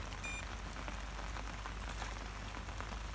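Steady autumn rain patters on a surface close by in marshy ground, a dense continuous hiss with scattered individual drops tapping throughout.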